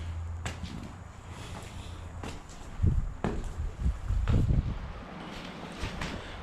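Wind blowing by the River Humber at an abandoned fishing dock in Hull, low rumbling gusts buffeting the microphone with intermittent louder bursts and a few sharp clicks, no talk.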